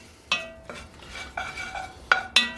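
A spoon stirs a one-pot meal seasoned with Aleppo pepper, making several distinct scraping and clinking strokes against the pot at irregular intervals, close and moderately loud with no talking.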